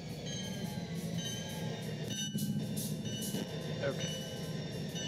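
Locomotive rolling along track in the Trainz 12 train simulator, a steady rumbling run with faint wheel squeal, while someone talks over it.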